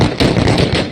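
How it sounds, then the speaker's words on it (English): A rapid burst of several loud, sharp gunshots in quick succession, close and harsh. "you can hear the gunshots"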